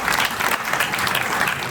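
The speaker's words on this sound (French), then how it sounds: "On peut l'applaudir." Audience applause at a literary prize ceremony, a dense, even burst of many hands clapping at close range for under two seconds, with no talking over it.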